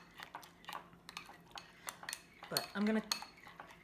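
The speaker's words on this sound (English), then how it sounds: "I'm just going to stir this, and you'll see it's still thick" A spoon scrapes and clinks against a pot while a thick mixture is stirred, giving a string of close, irregular scrapes and taps, with a brief voice speaking over them.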